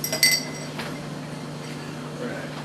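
A cocktail glass clinks sharply once near the start while a martini is stirred and chilled, followed by a soft rattle of ice and low background hum.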